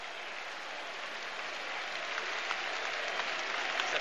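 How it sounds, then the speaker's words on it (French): Stadium crowd applauding at a UEFA Cup football match between Newcastle and Metz, a steady broad wash of clapping that swells slightly louder toward the end, with no talk over it. "Les applaudissements que vous entendez sont pour Faustino Asprilla."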